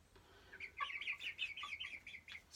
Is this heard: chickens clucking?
yes